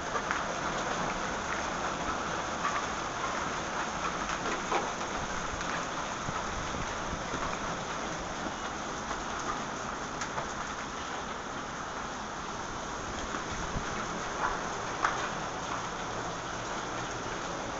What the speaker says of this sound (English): Now the rain is starting.